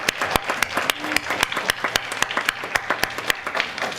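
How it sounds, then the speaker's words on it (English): An audience at a school board meeting applauds school basketball champions and their coaches, with distinct, sharp individual claps in an uneven rhythm from a modest crowd. "let's give them another round of applause"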